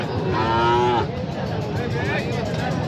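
Cattle at a rural livestock market moo loudly in one long, close call lasting about a second, followed by quieter crowd murmur and fainter lowing in the background.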